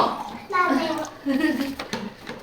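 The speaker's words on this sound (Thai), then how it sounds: "ไปล้างมือก่อนนะ" Tap water running as children wash their hands at home, a soft steady splashing heard underneath children's and an adult's voices talking throughout.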